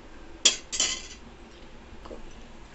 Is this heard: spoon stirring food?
yes